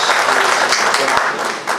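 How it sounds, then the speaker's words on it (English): Audience at a Mission Shakti space event breaks into a short burst of applause, dense and steady clapping from a crowd filling the whole moment without pause. "big round of applause"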